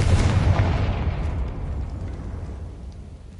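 Confringo blasting spell explosion in the video game Hogwarts Legacy, a single loud, deep boom that rumbles and slowly fades over a few seconds, with no talking.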